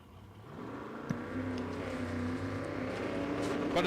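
A no-prep drag race car runs down the dragway at an IHRA event, its engine rising into a sustained, building roar heard from a distance.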